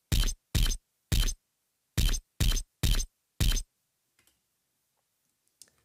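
Kick drum in an FL Studio beat plays alone as an accent, seven punchy hits in a stuttering pattern of three then four, then near silence with only faint ticks.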